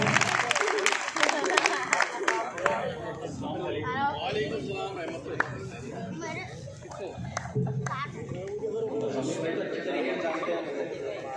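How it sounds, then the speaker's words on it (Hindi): Applause from the audience at an Independence Day mushaira poetry gathering in Sendhwa, strongest at the start, then receding under chatter and lively crowd talk, with children's voices mixed in. "जोरदार तालियों से इस्तेमाल करना है।"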